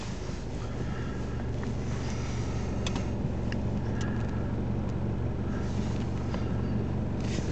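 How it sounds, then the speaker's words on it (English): A Mercedes A180 car engine idles steadily at close range, a low, even hum with no break through the whole stretch. "We'll just start the car up."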